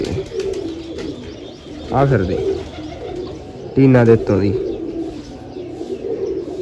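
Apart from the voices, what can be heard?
pigeons cooing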